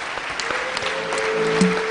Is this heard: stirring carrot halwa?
no